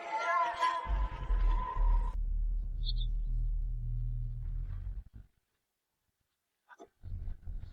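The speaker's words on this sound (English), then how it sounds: "Brother, thunder is gathering above your head." Thunder rumbling overhead, a deep sustained low roar lasting several seconds after a brief higher sound, then dropping to silence before a short burst returns.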